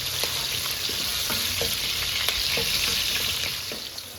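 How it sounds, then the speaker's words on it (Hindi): Chopped onion sizzles and fries in hot oil in a home kitchen pan, a steady dense crackle with occasional stirring clicks, close and continuous throughout. "ऑयल गर्म हो गया है, इसमें मैं डाल रही हूँ ये प्याज"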